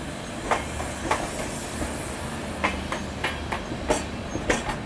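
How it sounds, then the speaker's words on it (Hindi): The Swarna Shatabdi Express running on the Kalka–New Delhi route, wheels beating a steady clickety-clack over rail joints beneath a continuous rolling rumble and hiss, heard from aboard. "आपको बता दूं कि ये एक स्वर्ण शताब्दी एक्सप्रेस है"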